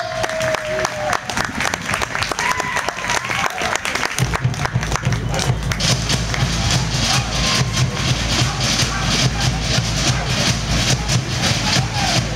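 An audience at a Samoan fire knife competition in Maui claps steadily and densely for the eight competitors, a sustained wash of applause that swells after a few seconds, with a voice briefly audible at the start.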